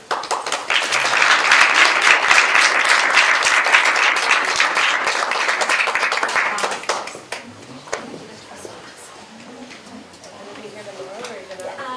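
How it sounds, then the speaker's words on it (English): Loud, dense applause from the audience of an undergraduate art history conference panel at Concordia fills the first seven seconds, then fades to scattered claps as a voice begins speaking. "Can we give them another round of applause?"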